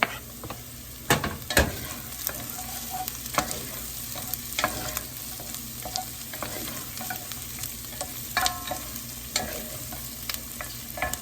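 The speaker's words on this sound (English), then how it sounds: "I'm gonna go ahead and add the garlic and the carrot" Garlic and carrot sizzle and fry in a soup pot while being stirred, with a steady hiss broken by scraping, clacking utensil strokes close by.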